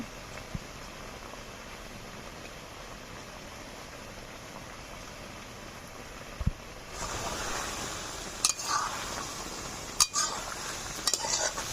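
Roasted ground spice is stirred into a hog plum (amra) pickle cooking in a pan. A quiet steady hiss gives way midway to louder scraping and rustling, with a few sharp spoon clinks and no voices.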